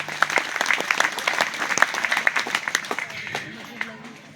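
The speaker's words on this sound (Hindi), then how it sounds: "इनके लिए बहुत बहुत ताली बजा के आशीर्वाद दो" An audience at a religious discourse by a female sadhvi claps loudly as a blessing, a dense run of many hands with sharp claps standing out, while a few voices carry through underneath.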